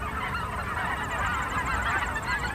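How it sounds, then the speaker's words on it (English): A flock of Canada geese and white-fronted geese honking continuously at a distance in autumn, many overlapping calls forming a steady, busy chorus. "There were plenty of geese there too, and they were adding their voices to the autumn song."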